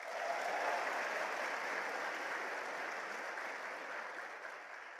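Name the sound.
audience applause at a seminar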